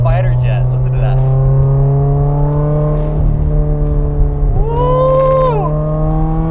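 A 730 wheel-horsepower Subaru STI with an external wastegate revs hard up close, its loud droning engine note climbing and falling in pitch with a sharp burst of rising revs near the end, and a voice can be heard over it.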